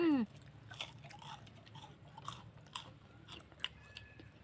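Crispy fried red sausage dipped in sauce gets bitten and chewed up close, with a few soft crunches and wet mouth sounds, quiet and intermittent after a brief whistle-like tone at the start.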